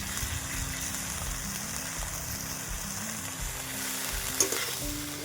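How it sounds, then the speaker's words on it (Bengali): Soaked dried shrimp hiss and sizzle in hot oil in a pan, stirred with soft scraping, a continuous close frying sound with no voices. "এর মধ্যে দিয়ে দেবো শুকনো চিংড়ি, আগে থেকে তো গরম জলে ভিজিয়ে রেখেছিলাম।"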